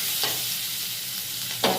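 Chopped green chilli and spices fry in a pan for egg pulao, giving a steady close hiss with two brief scraping stirs.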